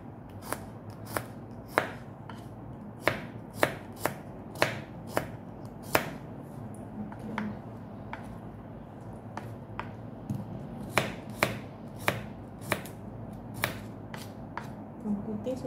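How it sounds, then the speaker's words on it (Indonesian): A knife chops garlic on a cutting board in a fast series of sharp, close taps, some in quick bursts and others spaced, continuing without talk over a quiet background. "Bawang putih sudah dipotong"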